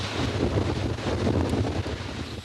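Strong gusting wind buffets the microphone in a continuous roar on a clifftop coast, with a faint wash of massive surf underneath.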